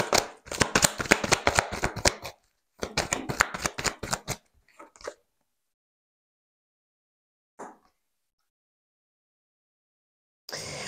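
Tarot cards riffle in two quick rapid shuffles of crisp, close flicking snaps, followed by a few soft isolated card slides and placements separated by silence.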